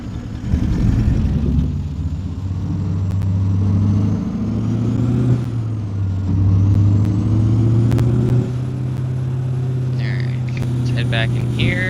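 A tri-drive truck cruises in American Truck Simulator, a steady low engine drone with shifting pitch and a faint whine, loud and continuous, with a few clicks near the end.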